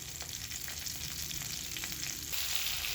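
Cumin and mustard seeds sizzling in hot oil in a kadhai wok while making tomato chutney, a steady close crackling hiss that swells slightly louder near the end, with no talking.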